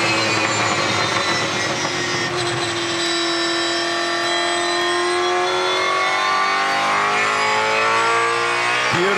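A Supercars race car at the 2019 Phillip Island SuperSprint roars through Southern Loop under throttle steering, its loud engine note holding high and steady with slight modulation before dropping sharply at the end.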